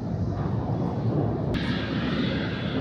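Aircraft at Tokyo Haneda airport: a steady, loud broadband engine roar from a plane, continuous throughout with a brighter hiss rising partway through, no speech.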